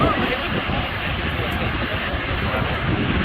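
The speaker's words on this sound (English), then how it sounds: "Recognize the aircraft coming right to me." Aircraft at the Royal International Air Tattoo airshow flying toward the listener, a loud steady broadband engine roar that holds level throughout with no break.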